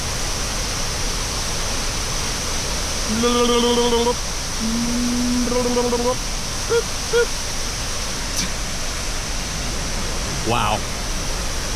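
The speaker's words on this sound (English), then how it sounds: "Look at the water coming out of that hole down there." Water gushes steadily out of a hole in rock near Lake Placid, a constant loud rushing roar under the whole clip, while a tonal whistle-like sound cuts through briefly and a voice exclaims once.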